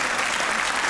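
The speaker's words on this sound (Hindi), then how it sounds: "तालियां बजती रहनी चाहिए।" Dense, steady applause from a studio audience at a comedy talk show taping, a brief continuous wash of many hands clapping close and loud with no pauses.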